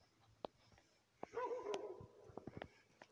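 Dogs yip and whimper outdoors at night, faint and distant, with a brief cluster of higher yelps amid scattered sharp clicks and low background noise.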